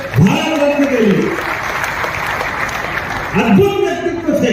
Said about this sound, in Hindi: जोरदार ताली बजाओ हमारे भारत रत्न के लिए